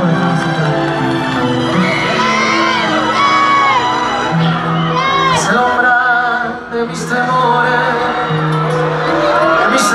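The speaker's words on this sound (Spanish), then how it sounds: "Un aplauso fuerte para él," Crowd at a concert in Bolivia cheers and whoops loudly and continuously for about ten seconds, a dense roar of voices layered over sustained musical tones.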